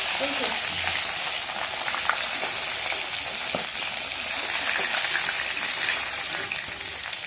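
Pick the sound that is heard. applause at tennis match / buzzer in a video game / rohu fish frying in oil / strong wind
rohu fish frying in oil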